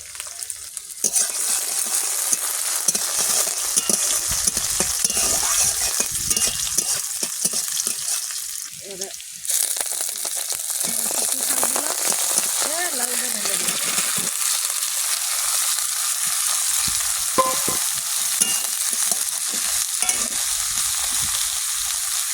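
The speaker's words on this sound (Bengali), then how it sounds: "তেল গরম হয়ে গেছে পেঁয়াজ দেবো পাঁচ ফোড়ন দেবো" Onion and five-spice (panch phoron) frying in hot oil, a continuous loud sizzle with stirring scrapes and occasional clinks of a utensil against the pan, no voices.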